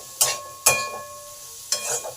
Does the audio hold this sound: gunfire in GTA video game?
no